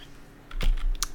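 A few quick computer keyboard key presses for a shortcut, close and crisp clicks in a short burst over quiet room tone.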